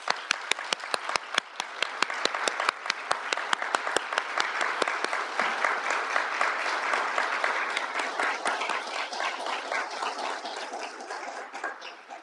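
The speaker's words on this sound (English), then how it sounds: "Please join me in a round of applause." Loud applause from a large crowd at a law school honors convocation, steady and sustained for about twelve seconds, with sharp individual claps standing out near the start.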